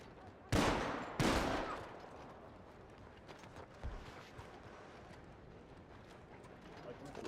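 Two loud gunshots ring out close together in a Western Skies roleplay server, a Wild West video game, followed by a fainter third shot; a voice talks underneath and hooves clop faintly in the background.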